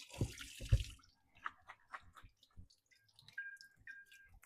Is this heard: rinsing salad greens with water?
yes